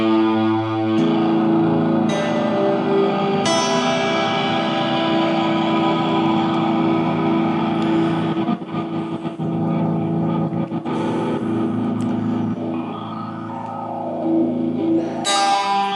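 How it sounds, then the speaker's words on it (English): Electric guitar played through a Fender Mustang I (V.2) amp with delay and echo effects, sustained chords ringing under ducking delay and hall reverb, with brief breaks between loud, continuous passages and no talking. "D2, ducking delay, small hall. And D3, echo filter."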